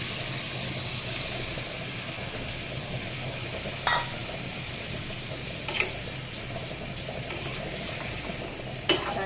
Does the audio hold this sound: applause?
no